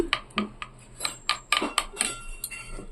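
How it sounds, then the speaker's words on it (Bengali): Plain curd being whisked in a bowl at home to break up lumps, giving a run of sharp utensil clinks and scrapes against the dish, repeated in quick irregular strokes and heard close with no talk. "এগুলো আমি একদম ভালো করে ফেটিয়ে ফেটিয়ে দইটাকে একদম"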